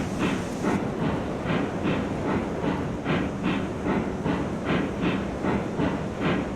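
A train running in the railway game Railroads Online, with a steady rolling rumble and a regular clickety-clack beat of wheels over rail joints, loud and continuous throughout with no talk.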